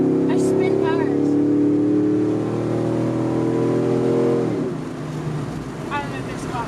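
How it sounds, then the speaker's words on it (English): A truck engine revs loudly and holds a high, steady drone for several seconds before dropping off sharply, with tire spin implied under the roar and faint background chatter. "I spin tires."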